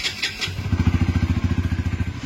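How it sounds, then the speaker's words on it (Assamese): A motorcycle engine catches after a brief start and settles into a steady, loud, close thumping idle to warm up, its low pulses beating evenly and alone. "এইফালে বাইকখন উলিয়াই অলপমান ষ্টাৰ্ট কৰি থৈ দিয়া হৈছে গৰম হ'বৰ কাৰণে।"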